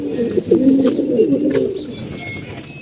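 Domestic pigeons kept in a loft during hot, sunny weather give soft, close, rolling coos that repeat and overlap over a few seconds, with faint background noise.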